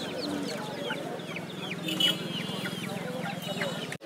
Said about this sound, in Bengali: এটা মোরগ আর এটা মুরগি না?